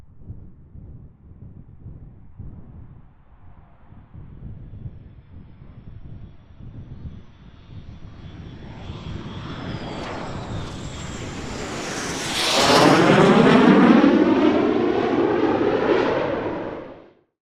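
A propeller airplane engine builds from a low rumble to a loud, rising roar as the aircraft passes close overhead, then cuts off abruptly.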